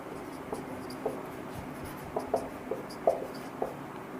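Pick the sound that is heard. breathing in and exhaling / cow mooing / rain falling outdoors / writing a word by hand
writing a word by hand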